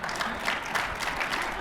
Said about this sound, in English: what are you clapping for that for?